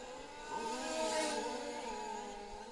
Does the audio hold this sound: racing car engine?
yes